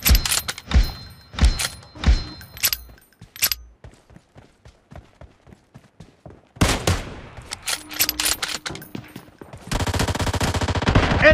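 Gunfire in the mobile battle-royale game PUBG Mobile: loud automatic bursts and single shots crack close up, pause into a run of quieter spaced shots, then erupt again into sustained rapid fire.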